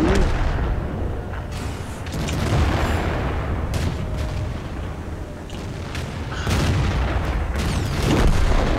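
Tank gunfire in an online tank battle video game with AMX and Scorpion tanks: heavy booming shots ring out repeatedly over a constant rumbling battle backdrop, loud and close.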